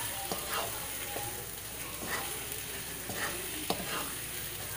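Moong dal halwa cooking in ghee with saffron, a continuous soft sizzle broken by regular spoon scrapes and taps against the pan as it is stirred, with no talking.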